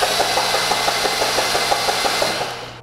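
A GY6 scooter engine cranks over continuously with a steady, rapid mechanical chugging and a broad buzzing whir, loud and close, with no voices, winding down slightly at the very end.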